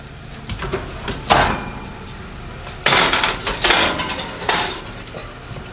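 A fluted apple pie goes into a NuWave Bravo XL smart oven air fryer toaster: scattered metallic clatters and bumps from the pan and rack, then a few louder knocks as the door is handled.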